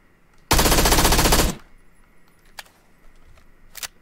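A loud, dense burst of automatic gunfire lasting about a second rips through a Call of Duty Modern Warfare match on Xbox One X, followed by two short sharp pops farther off against quiet game ambience.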